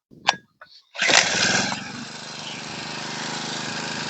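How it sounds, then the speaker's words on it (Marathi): A small four-stroke petrol earth auger engine is pulled, sputters, then roars to life loudly and settles into a steady, buzzing idle close by. "इंजिन चालू झालेलं आहे"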